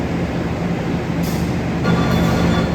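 A Penataran passenger train pulls away from Lawang station, a steady low rumble of wheels and engine close by, with a brief hiss partway through and no voices.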